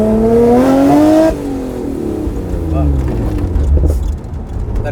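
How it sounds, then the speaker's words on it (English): A turbocharged 1995 Honda NSX engine revs high and loud, then drops off as the exhaust note falls and settles into a lower rumble. "That exhaust you have, it really like makes this car not too loud, but loud enough"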